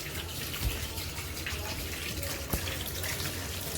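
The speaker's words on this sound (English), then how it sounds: "now I'm just washing the ingredients that I need" Kitchen tap running steadily while vegetables for a potato and rib soup are rinsed underneath, a continuous close splashing wash with a couple of brief knocks and no talking.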